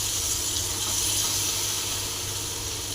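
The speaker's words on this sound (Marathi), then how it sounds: "आपल्याला थोडंसं पाणी घालायचं त्याच्यामध्ये." Water pours steadily into a tomato-onion masala gravy in a pan for an egg curry, a continuous close splashing hiss with no break.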